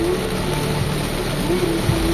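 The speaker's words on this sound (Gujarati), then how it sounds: "ગાડી પસાર થઈ કેટલું પાણી ઉડાડ્યું." A car passes along a flooded road in a torrential downpour, a continuous hissing wash of spray and engine noise under heavy rain, with no pause across the short stretch.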